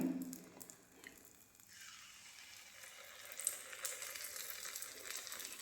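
Batter frying in ghee for a Karthigai Monday temple offering, a steady broad sizzle that swells after a quiet start and holds close and even to the end, with no voices.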